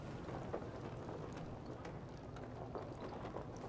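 Thunderstorm in the video game Beyond: Two Souls, steady heavy rain hiss with low rumbling underneath, fairly faint and continuous throughout.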